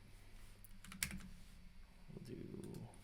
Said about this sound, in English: Let's type in Christmas.